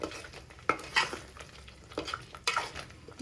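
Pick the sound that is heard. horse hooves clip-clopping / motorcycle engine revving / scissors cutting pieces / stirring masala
stirring masala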